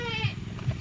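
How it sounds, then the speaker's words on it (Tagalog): Goats on a Philippine goat and cow farm bleat twice in short low calls amid constant murmuring voices and farmyard background noise. "At eto yung mga kambing."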